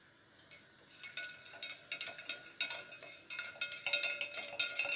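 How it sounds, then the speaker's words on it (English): A vanadium chemical mixture is stirred, a utensil scraping and ticking against the container in quick irregular strokes that grow busier and louder toward the end. "We stir it."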